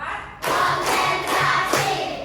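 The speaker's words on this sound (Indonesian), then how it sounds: "Tepuk 1, tepuk 2, tepuk 3, tepuk 4," Children clap in rhythmic bursts during a classroom clapping routine, with several sharp group claps landing in a steady beat, close and fairly loud.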